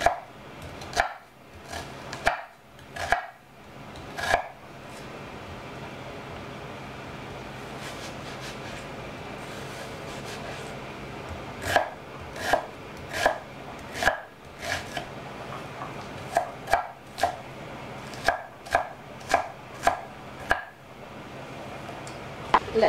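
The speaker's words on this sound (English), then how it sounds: "let's cut the onion." A knife chops an onion on a cutting board in quick bursts of sharp knocks, pausing midway before resuming a steady chopping rhythm, close up with no talking.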